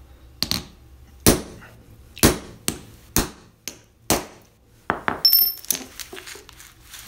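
A hammer drives a hardened steel punch into the shackle of a Viro Blocca Catena bike lock, giving about a dozen sharp, ringing metallic strikes at an uneven pace, close and loud, with short pauses between blows.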